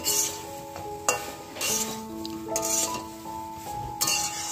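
Sun-dried lentil dumplings (bori) tumble into a pot of simmering dudh shukto, with soft sizzling, a few sharp metal clinks and spoon stirring, while a steady tonal hum runs underneath and no one speaks.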